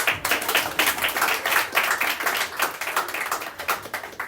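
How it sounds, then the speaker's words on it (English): A small studio group claps to open a comedy sketch, a steady burst of close, crisp hand claps running throughout. "All right, clap it in."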